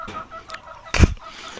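Free-range native kampung chickens kept in a backyard coop beside a garden give scattered short clucks, with one sharper, louder burst near the middle against a quiet outdoor background and no talking.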